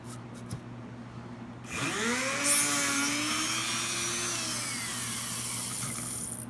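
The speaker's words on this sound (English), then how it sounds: "And I turn my Dremel on, and I have the depth set on my bit so that I do not penetrate that plywood." A Dremel rotary tool bites into foam laid over plywood, kicking in after a near-silent start with a loud, steady, high-pitched grinding whine whose pitch sags and rises as the bit cuts, continuing to the end.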